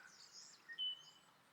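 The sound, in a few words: birds chirping in the distance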